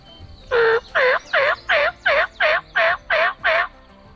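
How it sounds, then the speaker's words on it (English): Wild turkey toms gobble in a steady run of nine evenly spaced, loud calls, clear and fairly close, in the morning, with no talking. "The toms gobble all morning"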